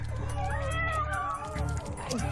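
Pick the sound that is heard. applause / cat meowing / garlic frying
cat meowing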